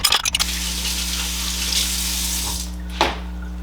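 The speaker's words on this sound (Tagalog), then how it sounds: "ang gagawin ko ay maghuhugas ng pinggan" Dishes being washed at a running sink: a steady rush of tap water with low mains hum, opened by a few clattering knocks and later a single clink.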